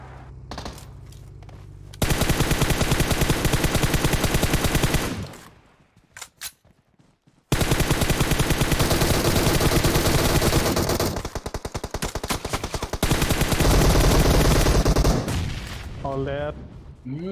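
Loud bursts of automatic rifle fire in the battle-royale game PUBG Mobile crackle in long rapid strings, broken by a short lull, with players' voices faint underneath.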